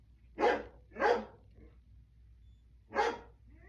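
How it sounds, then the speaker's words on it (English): A dog barks three times, two quick sharp barks close together then a pause before a third, loud and near in an otherwise quiet room. "every time I say something, she gonna bark"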